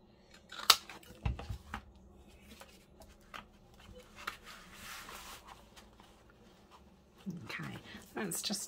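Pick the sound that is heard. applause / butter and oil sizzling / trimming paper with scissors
trimming paper with scissors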